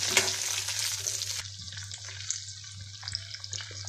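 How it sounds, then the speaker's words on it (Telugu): Chilies, garlic, cumin and tamarind frying in oil in a pan over a gas flame give a soft, steady sizzle with watery crackle, louder at first and then settling, heard close with no voices. "గ్యాస్ మీద ప్యాన్ పెట్టి ఆయిల్ వేసుకుని మిక్సీ ఫ్రై చేసుకోవాలి."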